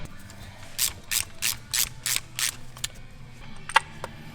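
A ratchet fitted with a spark plug socket loosens a plug on a Nissan Pulsar GTI-R, about seven even, crisp clicking bursts in a steady rhythm, close up, followed by a couple of lighter metallic taps.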